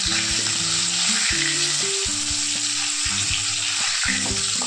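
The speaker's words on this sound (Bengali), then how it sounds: "আলুগুলোকে একটু লাল লাল করে ভেজে তুলে নেব" Potatoes fry in hot oil in a kadai until reddish, with a loud, steady sizzle that continues throughout, along with a low background hum.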